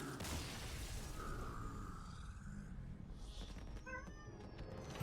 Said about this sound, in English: My cat was in distress.